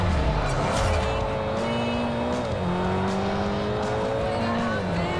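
A race car engine in Forza Horizon revs and climbs in pitch, dropping briefly with each gear shift, then winding up again in a steady, continuous drone.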